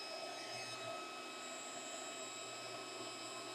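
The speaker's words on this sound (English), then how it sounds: "we're going to try to heat this nut up using this induction heater, no flame." A flameless induction heater works on a stuck nut on a diesel oil cooler hose fitting, giving off a steady, even electrical whine with a faint fan-like rush that holds constant throughout.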